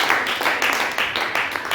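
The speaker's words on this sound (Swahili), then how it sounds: "Pigia Yesu makofi." A church congregation claps in a steady rhythm, with several loud, even bursts of clapping close together.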